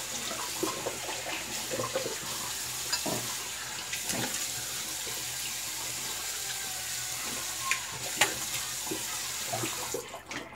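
Cold tap water runs from a faucet into a sink while a shaving brush is rinsed under it, a steady close splashing stream with a few louder sloshes and knocks, and no talking.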